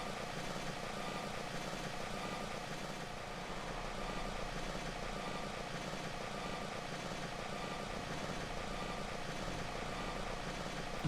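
In Kerbal Space Program, a spacecraft engine fires at low thrust, making a steady, moderately quiet rumbling drone that holds evenly throughout with no voices.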